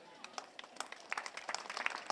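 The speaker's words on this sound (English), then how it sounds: "Can you please join me in giving Her Excellency, the Vice President, a big round of applause" A crowd applauds the Vice President's arrival at a cargo complex launch: a fairly faint, scattered patter of claps that builds slightly over a couple of seconds.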